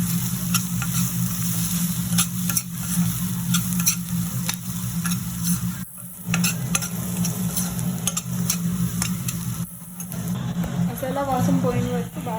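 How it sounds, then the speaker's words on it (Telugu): Masala spices with salt being stirred and fried in a pan for an Odisha-style mashed potato curry, a loud continuous sizzle with repeated scraping strokes and brief pauses, under a speaking voice. "ఇవి బాగా వేసుకొని బాగా కలపాలి. కిందకి పైకి మసాలా వాసన పోయిన వరకు"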